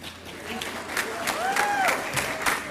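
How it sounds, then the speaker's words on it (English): Graduates at a nursing college commencement applaud their friends and family in a steady, moderately loud wash of clapping that swells and lingers, with a faint whistle-like tone and scattered crowd noise mixed in. "give them a round of applause"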